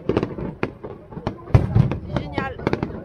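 Fireworks going off in the rain: a rapid series of sharp bangs and crackling bursts at irregular intervals, fairly close and loud, with people talking over them.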